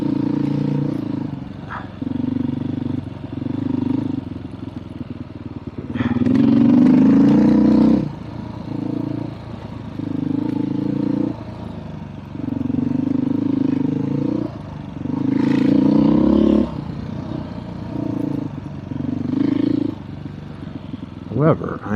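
Trail motorcycle engine drones steadily in second gear on a soft, unfamiliar Colorado trail during fall riding, with periodic louder surges and clatter, under a rider's ongoing talk.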